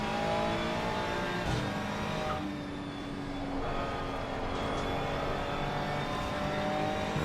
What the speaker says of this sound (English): You hear those turbos spooling up as we get back on the accelerator.